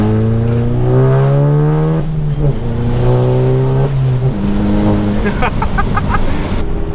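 A straight-piped Stage 2 MK7 Golf GTI revs loudly while warming up, its engine climbing and dropping in repeated pulls with a rough exhaust note close by.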